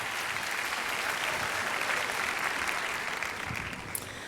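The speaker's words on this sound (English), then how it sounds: "Give the ORU and the technical crew and everyone here a huge round of applause." Sustained applause from a pageant audience at the Miss Oklahoma event, honoring the ORU technical crew; dense, steady clapping fills the hall at an even level before easing slightly near the end.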